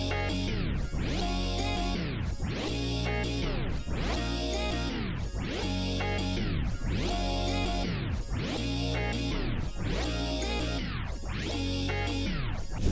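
A music loop plays alone, built from a dense sustained chord layer that swells and cuts in a steady repeating pattern, roughly every second and a half, loud and even throughout.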